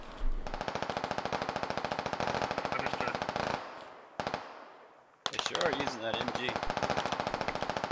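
Automatic AR rifle fire in the video game Squad: long rapid bursts of evenly spaced shots, loud and close, broken by a short lull before the firing resumes.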